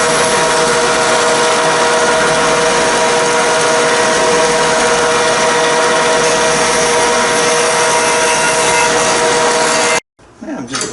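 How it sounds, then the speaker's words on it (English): A power sander works on a wooden boat rudder with a loud, continuous grinding whine for about ten seconds, then cuts off abruptly, leaving a quieter rumble. "Do that on the sander here, shape it and thin it down."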